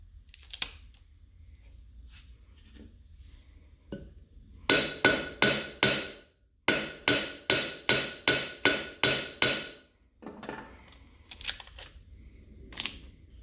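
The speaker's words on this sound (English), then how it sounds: "Now I've got just a little tiny lip to hammer" A small hammer strikes the lip of a metal cuff bracelet being made with a Nigerian citrine, a run of rapid, evenly spaced sharp taps in two bursts, with scattered lighter taps before and after, close and clear.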